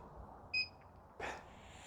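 A paranormal communication device gives a single short electronic beep, quiet to moderate, followed by a brief rustle against a steady low room hum, with no talking.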